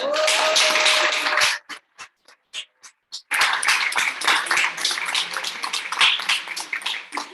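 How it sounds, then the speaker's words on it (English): An audience breaks into loud applause after a presentation on medicinal mushrooms, dense clapping that thins to a few scattered claps and then swells again into full, sustained applause. "So let's give a round of applause for these guys."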